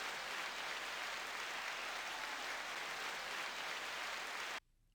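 A crowd applauds in a dense, continuous wash of clapping that holds steady, then cuts off abruptly just before the end, leaving near silence.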